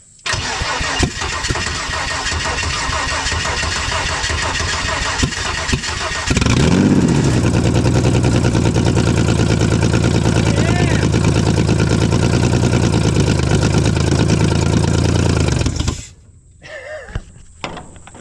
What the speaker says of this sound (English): I just got this thing to run and idle on a dizzy and brake cleaner